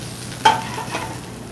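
Kale mixture sautéing in infused basil oil in a pan, a brief stir with a short sizzle near the start and a softer second scrape, close and alone with no voices.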